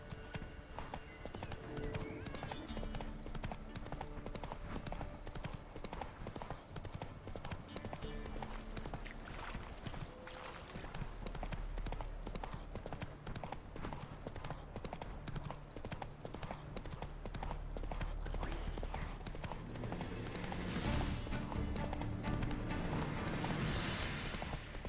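Horse named Roach galloping in a video game, a steady clip-clop of hooves running continuously under a dense, loud music and effects backdrop.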